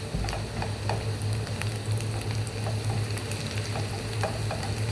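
Chopped onions and colored peppers fry in a pan, giving a steady, close sizzle with scattered small pops and crackles and no voices.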